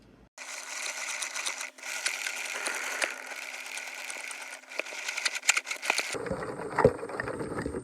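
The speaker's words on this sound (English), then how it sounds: "hopefully the heat of that will be enough to blend this smoothly" Blender processing microwaved rice and beans, a continuous whirring mechanical drone that runs steadily, dips briefly, then shifts to a rougher, rattling tone near the end; no speech.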